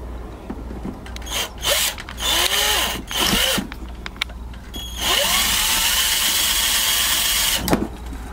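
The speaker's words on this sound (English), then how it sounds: "So let's use the drill" A power drill whirs in several short bursts with rising and falling pitch, then runs steadily for a few seconds, loud and close, while repairing a Thetford Tecma toilet switch.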